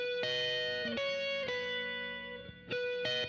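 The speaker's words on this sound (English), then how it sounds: "So here is the counter melody with no processing." An unprocessed synth counter melody in a pop punk track plays simple sustained tones, each note holding briefly before changing pitch, with a bright, buzzy, harmonic-rich timbre and no effects.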